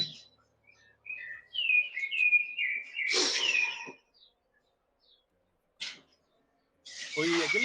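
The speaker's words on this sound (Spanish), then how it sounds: "Ah, porque aquí también suenan pajaritos." Small birds chirp outdoors in short, bright whistled bursts with gaps of quiet between them, moderately close and fairly faint.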